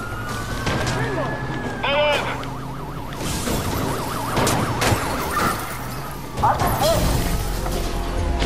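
A police car siren wails in the Watch Dogs video game on PS4 during a chase, its undulating tone rising and falling loudly over engine and traffic noise, with voices talking at times.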